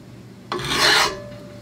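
A simple hand file scrapes once across a lawnmower blade's edge, a single close rasping stroke of about half a second that starts abruptly and fades into quiet.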